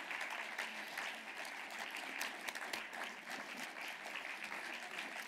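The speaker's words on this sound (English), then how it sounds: "Please, give them a round of applause." A conference audience at a women political leaders' global summit keeps up a thick, even round of applause, many hands clapping together at moderate level for several seconds, with faint murmur beneath.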